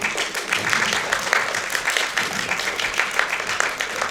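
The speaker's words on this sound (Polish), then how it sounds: "brawa dla tej pani" Steady applause from a crowd at a cosplay convention, dense overlapping clapping that holds at an even level throughout without pause.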